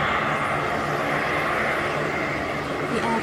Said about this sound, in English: The airplane circled in the turbulent sky above